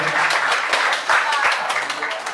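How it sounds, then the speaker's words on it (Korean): Guests at a first birthday party clap together in a brief, dense burst of applause that continues throughout, with no one talking over it. "자, 박수 한번 부탁드릴게요."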